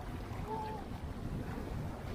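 Strong wind buffets the microphone over the steady rush of waves at sea, a constant loud roar with no voices.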